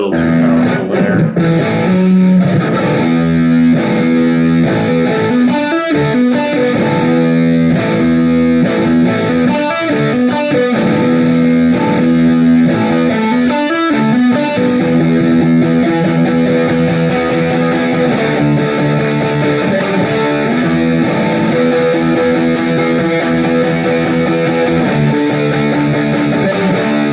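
A Reverend Charger HB electric guitar played through heavy distortion, loud sustained riffs and chugging chords with continuous dense tone throughout, no talking.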